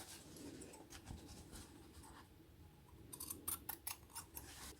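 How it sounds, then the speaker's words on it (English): Scissors snipping the corners of a sewn fabric face mask, a quick series of sharp cuts near the end after quieter rustling, faint overall. "just before we turn it inside out, we are going to cut these corners like so"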